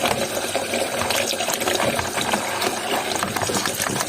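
Tap water runs steadily while small salted fish are rinsed, a continuous rushing, splashing stream close by with no talk.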